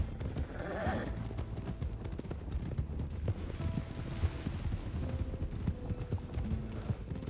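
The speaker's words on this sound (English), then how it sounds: "There's a horse here on the left." Horse hooves clip-clop in a steady walking rhythm in the RedM (Red Dead) roleplay game, moderately close and continuous, with faint game ambience and occasional mechanical clicks behind.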